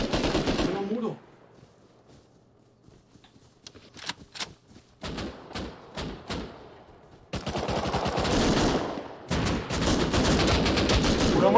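Bursts of gunfire in Rust on PS5, rapid automatic volleys and single sharp shots, loud and close, with heavier continuous firing in the second half.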